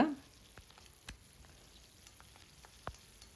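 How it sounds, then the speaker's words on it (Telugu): Green chillies and curry leaves fry in hot oil in a pan, a faint steady sizzle with a few soft clicks and stirs. "పచ్చిమిరపకాయలు కరివేపాకు వేసి వేగనిచ్చిన తర్వాత"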